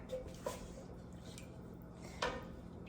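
A metal can of tomato paste is scraped with a utensil, a few faint, sparse metallic scrapes and taps in a quiet kitchen, spaced out over a few seconds.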